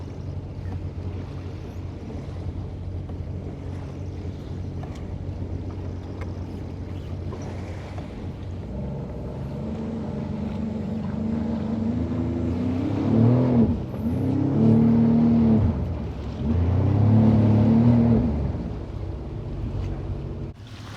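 A Sea-Doo Fish Pro personal watercraft on a deep-sea outing hums steadily with its engine, with wind buffeting the microphone, then revs up and surges in louder bursts toward the end.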